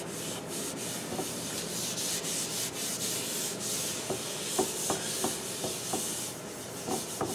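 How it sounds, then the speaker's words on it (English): A school desk is hand-sanded with 320 grit sandpaper under almost no pressure. The wood gives a steady, close, soft rubbing hiss, with a run of light rhythmic strokes toward the end. "So, 320 sandpaper,"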